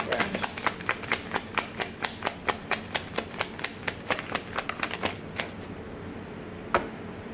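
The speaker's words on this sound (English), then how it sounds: "And I'm shuffling." Tarot cards shuffled by hand, a quick steady run of crisp riffling snaps close to the mic, slowing and stopping near the end with one last slap.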